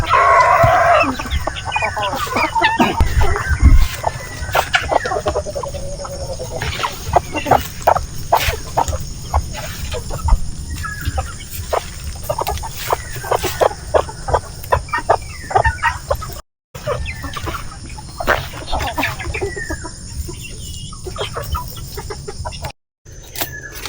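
BPR chickens on a Philippine farm cluck steadily in a close flock, with busy overlapping calls and an occasional rooster crow, no talking.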